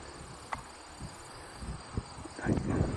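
Bees buzz inside a Honda Accord in summer heat, a faint, steady insect drone close by, punctuated by small knocks and rustles, growing slightly louder at the end.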